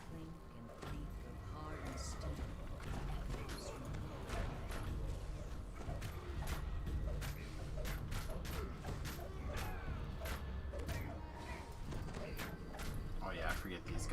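Iron and steel clink and creak in a video game, with metallic mechanical clatter and ratcheting ticks repeating steadily throughout under continuous game ambience.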